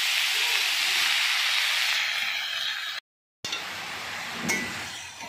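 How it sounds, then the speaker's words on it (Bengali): Leafy greens hit hot ghee, producing a strong, steady steaming hiss that cuts to silence for a moment, then returns softer with a faint clink and a quieter sizzle. "এবার এই ঘিয়ের ওপরে এই শাকগুলো তুলে দিচ্ছি"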